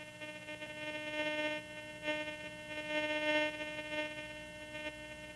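A Garrett GTI 2500 metal detector holds a steady electronic threshold tone, a faint continuous hum with slight swells in level, heard alone without talk.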